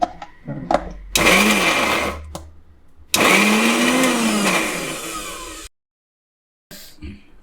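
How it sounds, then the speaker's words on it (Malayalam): A mixer grinder whirs loudly as it grinds chillies and coriander leaves for a Kerala chammanthi, running in two long bursts and several short pulses, then a pause and one brief final burst. "ഇനി ഇതിനെല്ലാം കൂടെ ഒന്ന് അരച്ചെടുക്കണം"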